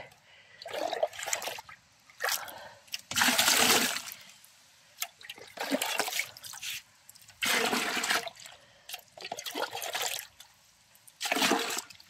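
Water is poured in repeated bursts into a small container to dilute nettle fertilizer for watermelon seedlings, each pour a splashing gush lasting a second or so, separated by quiet pauses.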